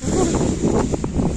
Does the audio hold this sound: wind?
yes